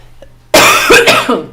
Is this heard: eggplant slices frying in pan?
no